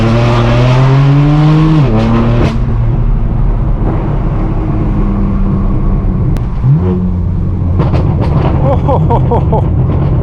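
A straight-piped BMW M4 F82 roars loudly from inside the cabin as it drives, the exhaust rising and falling through revs and gear changes with crackles and pops, dominating the scene throughout.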